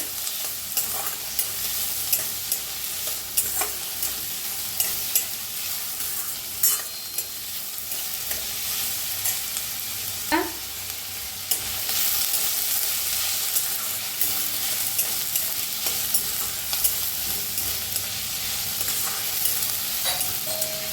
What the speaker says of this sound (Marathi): थोडंसं हिंग, बारीक कापून घेतलेला कांदा, कांदा भाजून घेऊया।